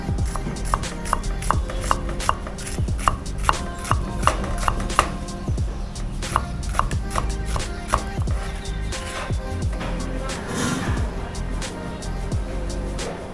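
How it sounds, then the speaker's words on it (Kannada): A knife chops bitter gourd in a steady run of sharp, close cutting knocks on a board, with a brief rustling pause near the end. "ಇವತ್ತು ಸ್ಪೆಷಲ್ಲು ಹಾಗಲಕಾಯಿ ಫ್ರೈ ಮಾಡುವ. ಬನ್ನಿ, ಈಗ ಕಟ್ ಮಾಡ್ಕೊಳ್ಳುವ."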